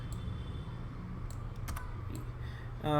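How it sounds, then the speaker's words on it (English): Keys pressed on a computer keyboard during a live-streamed image-editing session, a few quick clicks over steady background hum with no talking. "So I'm pressing V on my keyboard, which goes to your move tool."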